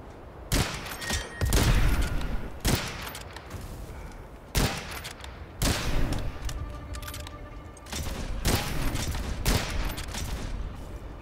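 Bursts of game gunfire during a boss fight against a Shieldbearer in the PC shooter Witchfire, with several loud volleys separated by short gaps over a dense, roaring background.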